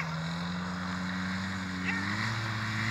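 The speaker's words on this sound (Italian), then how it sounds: "Rida motore." Powered paraglider trike engine throttling up for a touch-and-go at a field near Acqui Terme: a steady droning propeller-engine note, held fairly close, that climbs in pitch and grows slightly louder toward the end.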